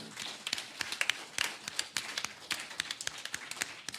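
A church congregation claps and cheers during a sermon, a dense wash of hand claps with sharper individual slaps standing out, steady and lively throughout.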